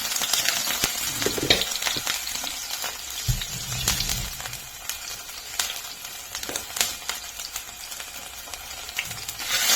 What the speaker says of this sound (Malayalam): അപ്പോൾ വെളിച്ചെണ്ണ ചൂടായിട്ടുണ്ട്. ഇതിലേക്ക് ഇഞ്ചി വെളുത്തുള്ളി ചതച്ചത്,